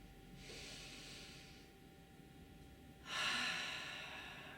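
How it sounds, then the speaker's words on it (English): Slow, deep breaths during a seated shoulder stretch: a long, soft inhale followed after a pause by a louder, airier exhale, close and quiet with no talk. "let's take some deep breaths"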